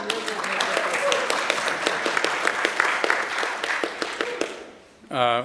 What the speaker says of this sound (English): yeah, we can clap. You don't have to wait.